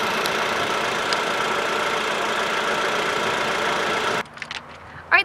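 A 2017 Jeep Renegade's 2.4-liter four-cylinder engine runs steadily with a broad, even hum for about four seconds, then cuts off to near quiet with a few faint clicks and a thump.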